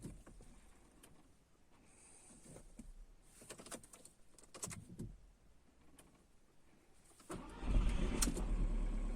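A Seat Alhambra 2.0 TDI that has sat overnight cranks in the cold without starting. Faint rattles and movement come first, then a loud, low, continuous churning from the starter near the end.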